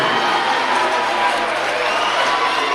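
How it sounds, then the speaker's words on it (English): A men's volleyball crowd of Master's and Hawaii fans cheers loudly after a block, with a dense roar from the student section filling the arena while an announcer talks over it. "And the crowd loves it"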